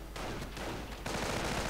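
Dense bursts of gunfire from Browning automatic rifles and other rifles in a World War II strategy game battle, rapid overlapping shots forming a continuous, loud rattle.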